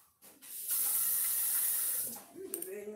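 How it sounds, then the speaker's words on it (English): Water runs in a steady hissing stream for well over a second in a kitchen, with clinks and a brief voice toward the end. "Pour out a little bit of water for him too, babe."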